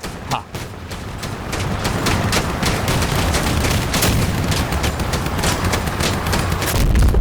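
Rapid bursts of heavy gunfire from a big gun in a video game, a dense fusillade of booming shots rattling on continuously for several seconds.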